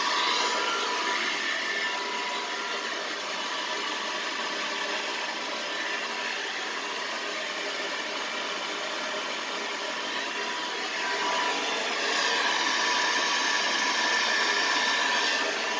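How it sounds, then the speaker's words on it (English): Steady broadband airflow roar from a hair dryer fitted with a diffuser, drying wavy or curly hair, continuous and fairly close with a slight shift in tone near the end, with no voices. "you take your hair and you kind of diffuse up halfway rather than from the bottom"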